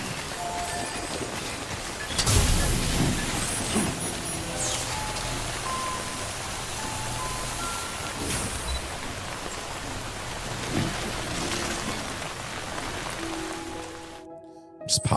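Steady rain in the video game Delivery Man XXL, a dense continuous hiss with a few tonal streaks layered over it, holding at an even level before cutting off abruptly near the end.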